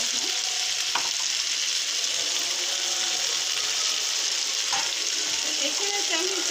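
Chicken rezala paste of ground nuts and yogurt sautéing in a pan, giving a steady, close sizzle and hiss with a few faint stirring clicks and no talk.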